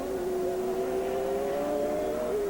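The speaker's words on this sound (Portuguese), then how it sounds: "E aí tá falando alto o motor do Emerson, hein?" An Indy race car engine from the 1991 Mid-Ohio Grand Prix on the circuit's fastest section wails steadily at high pitch, a sustained loud roar with a slowly shifting tone and no talk over it.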